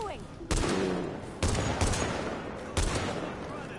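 Bursts of gunfire in the video game The Division, with three loud volleys of rapid shots ringing out and decaying amid background game noise and faint voices.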